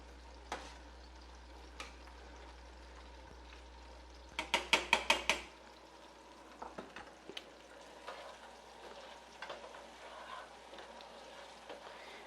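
Garlic frying in a pan on medium-low heat, a faint sizzle beneath scattered utensil clicks and a quick burst of metallic rattling from stirring.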